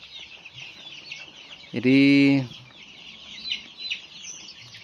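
A single loud, drawn-out chicken call rings out on a chicken farm over faint background chatter from other birds, with a brief voice speaking nearby.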